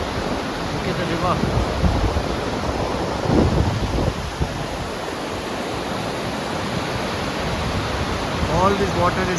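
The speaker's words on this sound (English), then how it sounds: "All this water is coming from the Everest Base Camp." A mountain river flows down from Everest Base Camp on a Himalayan trek. It makes a loud, continuous rushing roar close by, with no clear speech.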